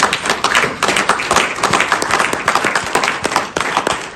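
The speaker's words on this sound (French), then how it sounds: "On peut applaudir très fort." Vigorous applause fills an installation ceremony for the Union Sacrée sub-section in Luxembourg: many hands clapping fast and close, with sharp individual claps standing out in a dense, unbroken stream.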